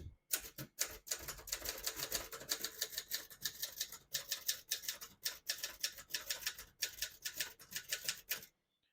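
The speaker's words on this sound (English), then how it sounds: "Beautiful typing machine." Steady, rapid clacking of a 1975 Adler J5 manual portable typewriter's keys, a continuous run of crisp mechanical strikes with brief pauses, close up and alone.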